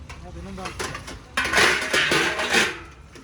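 Dishes clatter and clink in a sink amid running water, a steady jumble of scraping and knocking, with a voice talking faintly at the start.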